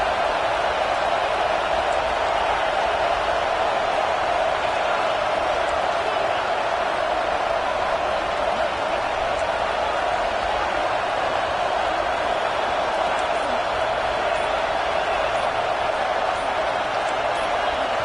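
Dense, steady roar of a packed college football stadium crowd during a USF at Oklahoma game, loud and continuous with no breaks as fans drown out the offense before a false start.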